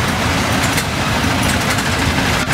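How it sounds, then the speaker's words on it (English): A 28 horsepower Minneapolis steam traction engine running in a threshing bee parade, a loud, steady chugging and rumbling close by, with outdoor crowd noise around it. "28 horsepower Minneapolis engine"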